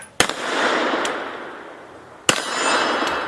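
Two loud revolver shots fired at close range, each a sharp crack followed by a long, fading outdoor echo and reverberation, spaced about two seconds apart with no talking.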